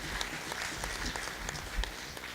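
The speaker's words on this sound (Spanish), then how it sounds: "el aplauso." Dense applause from an auditorium audience at a community organizations meeting in Quibdó, welcoming a neighborhood association board representative, steady and moderately loud with faint voices mixed in.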